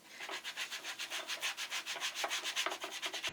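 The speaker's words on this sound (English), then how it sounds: "So the reason why I sand down the handles is because I want to have a fresh slab of wood" Sandpaper rubs steadily over the old wooden handles of a vintage draw knife, smoothing off dirt and worn ends in quick, even back-and-forth strokes, close and alone.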